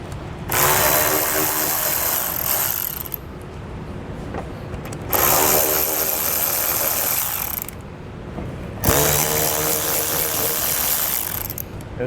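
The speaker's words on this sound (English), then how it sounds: "we're going to take a 10mm socket. We're going to loosen the nuts that run from one side to the other." A power tool fitted with a 10mm socket spins nuts loose on a 2021 vehicle's rear panel during a trailer hitch install. It comes in three long, loud, whirring runs, each separated by a brief pause.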